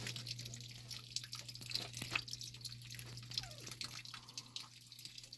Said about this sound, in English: So we're draining it down a little bit right now.